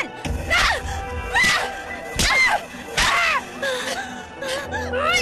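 Repeated face slaps in a Filipino comedy romance film, sharp smacks landing every second or so, each followed by a gasp, groan or cry from the actors.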